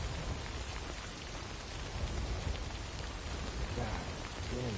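Rain in the video game Death Stranding pours down steadily as a dense, hissing wash of droplets. A faint low rumble sits under it near the end, and nobody speaks.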